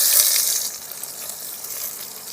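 Chopped onions hit hot mustard oil with bay leaf and cumin, giving a loud, steady hiss of frying that starts strong and settles into a continuous bright sizzle with no talking.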